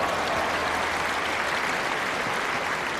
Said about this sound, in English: That was to get a big round of applause.